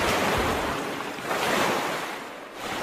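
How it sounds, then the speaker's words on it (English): A plane splashing down onto water in a reenactment of US Airways 1549 landing on the Hudson, heard as a loud, broad rushing wash of spray that surges, eases, then swells again, close and continuous. "The plane splashes down at a speed of 104 miles per hour."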